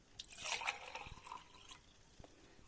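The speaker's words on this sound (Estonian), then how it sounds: "Ühe klaasi sisse ma vallan ühe sellise topsiku külma veega" Cold water poured from a small cup into a glass gives a short, soft splashing pour that trails into a few quiet drips. It sounds close and faint, with no voices.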